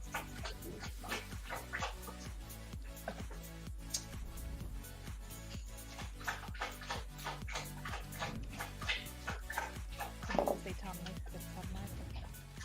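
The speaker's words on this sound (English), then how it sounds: "my dog licking and drinking in the background" Close by, a dog laps and licks at water in quick rhythmic wet slurps that keep going without a break.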